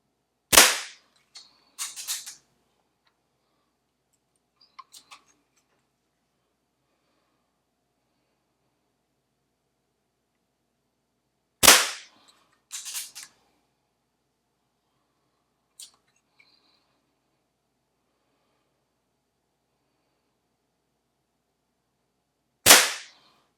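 Shots from a Crosman 2300S custom air pistol: three sharp, loud cracks spaced roughly ten seconds apart, each followed by faint clicks of handling, in an otherwise quiet setting.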